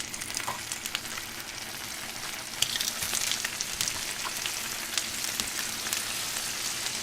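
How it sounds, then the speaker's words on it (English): Fish fillets fry in butter in a hot skillet, giving off a dense, steady sizzle and crackle up close with scattered pops, and no talking. "I got the skillet heated up with some butter."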